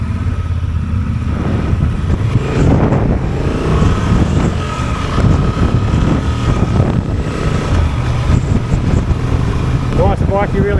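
Honda 750 Transalp motorcycle engine on a road test ride, a steady smooth drone blended with heavy wind rush against the microphone, continuous throughout while a rider talks over it.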